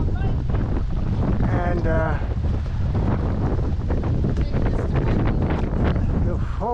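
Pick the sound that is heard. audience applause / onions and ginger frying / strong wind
strong wind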